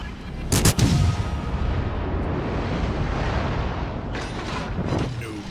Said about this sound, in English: Torpedoes deployed. Enemy destroyer blown up.